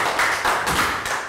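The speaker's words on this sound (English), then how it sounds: "Round of applause, everybody." A classroom of Year 3 pupils gives a short round of applause, a dense burst of many small hands clapping together at steady loudness for just over a second, with no talking.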